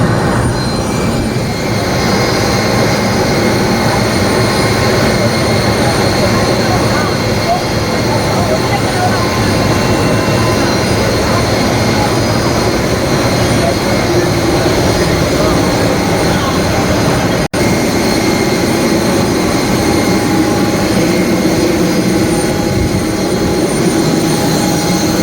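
A jet airplane departs Hyderabad airport for Calicut with a continuous loud roar that holds steady throughout and sounds close by.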